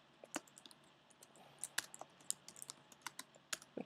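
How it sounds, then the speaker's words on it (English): Close keys clatter on a computer keyboard in quick irregular bursts of sharp clicks, typing text into a music software project, quiet and alone without any talking. "you'll start typing it just like you would for the other sample"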